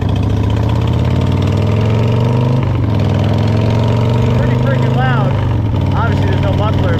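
A 1999 Buell X1 motorcycle with no muffler idles loud and close with a throbbing, lumpy rumble, rising briefly in revs, while someone talks over it.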